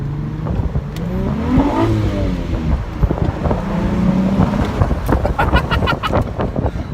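A 2003 Nissan 350Z engine roars and revs loudly, echoing in a tunnel, with rising pitch sweeps and buffeting wind noise through open windows close to the microphone.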